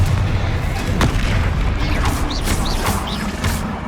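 Confringo fire blasts in Hogwarts Legacy burst in loud rapid succession, sharp booming cracks over a dense rumbling battle din with whooshing spell effects.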